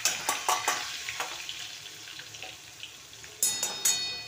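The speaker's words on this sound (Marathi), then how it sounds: "तेलामध्ये चांगले ना फ्राय होऊन द्यायची मिरची." Garlic, ginger and green chillies fry in hot oil with steady sizzling, punctuated by sharp clinks of a spoon stirring against the pan, close and clear with no talk.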